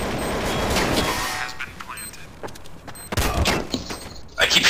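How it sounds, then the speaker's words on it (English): Gunfire bursts in Counter-Strike: Source, on the Dust and Train maps, crackle in rapid fusillades that rise and fall across the clip, loud and close, with a sharp flurry near the end, mixed with players talking. "I keep shooting people and they don't die."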